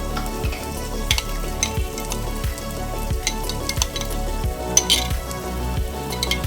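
Spice masala frying in oil for a yogurt pabda fish curry, a steady close sizzle broken by regular scraping strokes of a spoon stirring the pan, with a few light metallic clinks.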